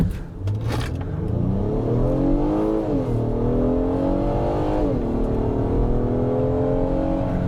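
A 2025 Acura MDX A-SPEC SUV accelerates hard from a standstill toward 60, its engine revving up loudly through rising gear pulls with a shift or two, heard from inside the cabin with no talking.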